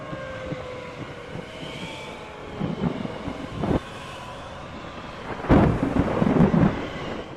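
Low rumbles of thunder roll through a severe thunderstorm, with one softer crack and a louder, closer burst toward the end over a steady rainy wash.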